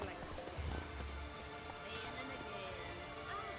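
Steady rain falls in The Witcher 3, a soft continuous patter of drops beneath a talking voice throughout.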